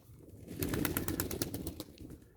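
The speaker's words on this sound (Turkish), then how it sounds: "daha yakından kuşların banyo videosunu çekmek istedim" Pigeons bathing close by, a burst of splashing and wing-flapping water sounds rising and lingering for about two seconds, with faint soft cooing.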